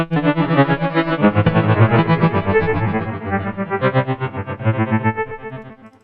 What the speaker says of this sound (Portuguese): A reverberação e o trêmulo no instrumento virtual.